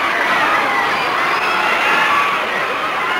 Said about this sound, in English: The crowd are going wild here.